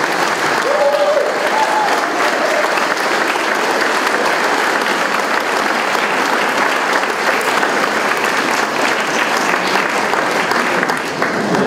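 Sustained applause from a large crowd, steady and loud throughout with dense clapping that never lets up.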